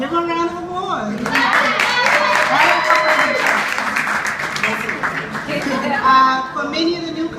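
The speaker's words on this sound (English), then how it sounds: "Give him a round of applause." Audience at a community college law and social justice club event breaks into a full round of applause, dense clapping sustained for several seconds with voices over it near the start and end.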